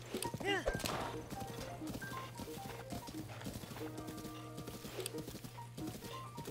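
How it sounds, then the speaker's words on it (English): Hooves of a horse clip-clop in Breath of the Wild, with a neigh or whinny early on, set against a steady game music drone and scattered tones, while someone talks over it. "Hearing some nice horse diddles"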